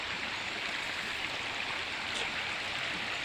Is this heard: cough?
no